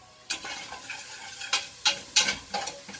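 Tuna curry ingredients cook in a pan with a soft background sizzle, punctuated by a series of sharp stirring scrapes and clacks of a utensil at irregular intervals, close by and without speech.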